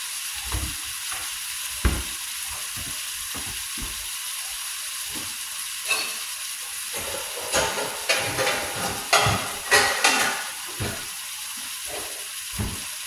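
Food sizzles and hisses steadily in a pan while a utensil scrapes and stirs in irregular bursts, close and fairly quiet, with no talking.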